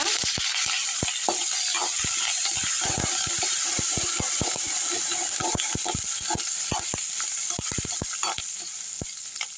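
Semiya vermicelli roasting in a pan, heard as a continuous close sizzle broken by frequent sharp clicks and taps from stirring, steady in loudness throughout, with no voice.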